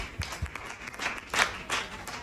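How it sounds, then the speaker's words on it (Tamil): A church congregation at a Sunday service claps their hands in scattered bursts, loose and uneven rather than rhythmic, the claps moderately loud. "எல்லாம் கைத்தட்டு பார்க்கலாம்."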